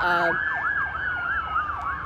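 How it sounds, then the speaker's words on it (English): A wailing siren rises and falls in a steady, repeating cycle, loud and sustained throughout, with no voices over it. "wait till that siren's done"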